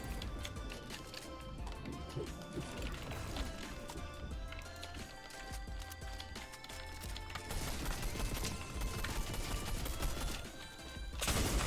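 A pump shotgun fires in a Fortnite match: a sharp blast set within a dense, continuous mix of game gunfire, movement and effects, with a voice heard at times.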